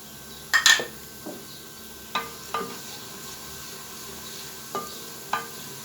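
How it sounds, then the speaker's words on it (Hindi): Onions and cumin cook in a pot for matka chicken curry, a faint low sizzle broken by a few sharp clinks of a spoon against the pot, quiet and close, with no talking. "ज़ीरे के साथ इन प्याज़ों को थोड़ा सा हम मज़ीद पकाएंगे 30 सेकंड।"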